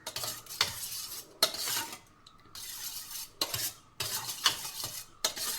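Ash gourd pachadi with buttermilk is stirred in a pot, with repeated bursts of a spoon scraping and clinking against the metal, close up, separated by short pauses.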